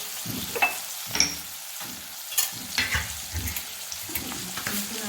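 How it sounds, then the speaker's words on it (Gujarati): Masala of green garlic, tomato, green chilli, turmeric, red chilli and spices sautéing in a pan for chole, heard as a soft continuous sizzle under repeated close stirring and scraping strokes in an uneven rhythm, with no talk. "થોડુંક મીઠું નાખી આપણે સરસ મસાલો કરો સોતે કરી લઈએ."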